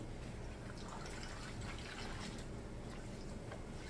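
Collard greens being rinsed in a sink full of water, with steady sloshing, splashing and trickling close by that runs continuously without pause.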